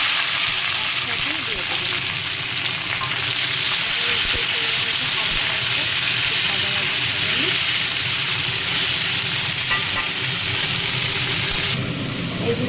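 Onion and capsicum frying in oil left over from chicken pakoras in a kadai, a loud, close, continuous hiss and sizzle that runs throughout.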